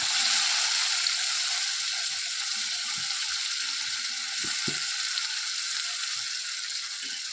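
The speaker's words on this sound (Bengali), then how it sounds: "এবার মশলাগুলো আমি কষিয়ে নেব দিয়ে দিলাম রসুন আর পেঁয়াজ" Garlic and onion with spices fry steadily in a pan, a bright continuous sizzle with a few soft stirring knocks and scrapes underneath, close and unbroken throughout.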